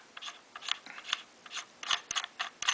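Front thread protector being unscrewed from the suppressor-ready barrel of a B&T TP9 pistol, a series of short, dry metallic clicks and scrapes in an uneven rhythm, close and fairly quiet with no talking.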